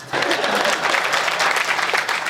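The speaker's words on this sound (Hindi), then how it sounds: "हाँ बजाओ ताली, डर क्या रहे हो तुम?" Steady applause from an audience at a Hindi comic poetry gathering, a dense wash of clapping that starts abruptly and holds at an even level throughout.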